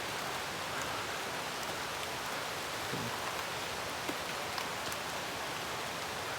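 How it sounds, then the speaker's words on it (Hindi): Steady, dense hiss of heavy rain falling on surfaces, continuous throughout with a few faint drips and knocks, no voices. "बारिश बहुत हो रही है"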